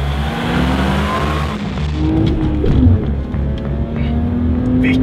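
A car accelerates hard during a performance test on an airfield, its engine climbing in pitch through gear changes, loud and close at first then easing as it pulls away, with no talk over it.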